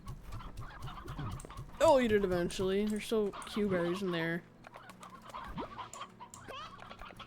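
Chickens cluck in the Slime Rancher video game, a run of short calls mixed with a louder stretch of harmonic squawks in the middle, heard under and between a person talking.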